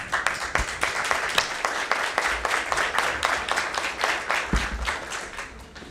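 An audience at a literary conversation applauds a guest with distinct, crisp claps in a moderately paced, fairly close burst that gradually thins toward the end.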